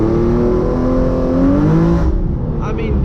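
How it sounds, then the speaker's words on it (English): A Hyundai Genesis Coupe 3.8 with a Solo Performance exhaust pulls hard in first gear, a loud, rising engine and exhaust note climbing steadily before cutting off abruptly near the end. "let's go ahead and throw it into first gear now and do a little send."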